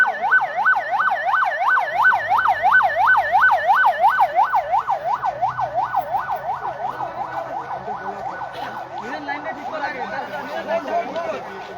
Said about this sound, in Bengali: একটা অ্যাম্বুলেন্স আসতেছে, অ্যাম্বুলেন্সটা একটু জায়গা দিয়ে দিই।